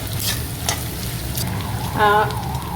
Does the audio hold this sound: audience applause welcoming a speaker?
no